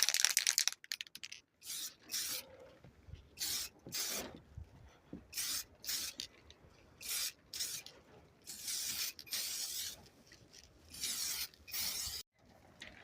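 An aerosol spray paint can applies a coat to an alloy wheel in repeated short bursts of sharp hiss, each lasting about a second, separated by brief pauses, close to the listener.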